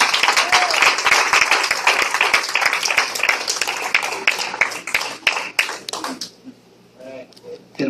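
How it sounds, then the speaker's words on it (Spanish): A church congregation claps in a dense, sustained round of applause that thins out toward the end, with some voices mixed in. "Dale ese aplauso a Jesús."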